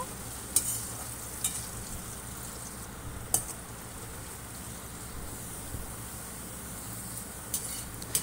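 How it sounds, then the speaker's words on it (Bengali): Chopped carrots fry in oil with salt, giving a soft, steady sizzle broken by occasional clinks and scrapes as they are stirred in the pan. "এবারে ওই তেলেই দিয়ে দিচ্ছি গাজর কুচি। সামান্য একটু নুন দিয়ে গাজরটাকে ভালো করে ভেজে নেব।"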